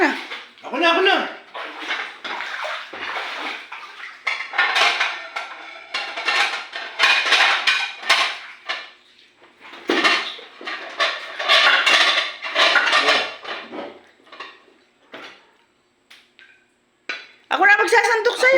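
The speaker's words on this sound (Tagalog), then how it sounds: "Pagsasandok na lang kita ng kanin. Pinggan." Dishes and cutlery clink in quick, scattered bursts while rice is ladled onto plates at a home meal, with people talking throughout.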